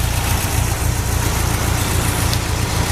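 An MGB engine fitted with a Weber dual progressive downdraft carburetor idles steadily and close up, a continuous low rumble with no talk over it.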